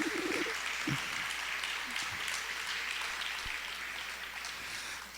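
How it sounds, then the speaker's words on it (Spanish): A church congregation claps for the Lord during a service, a dense, steady wash of applause that carries on throughout. "Dale un aplauso al Señor"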